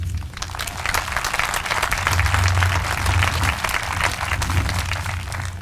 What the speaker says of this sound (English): That was an easy applause there.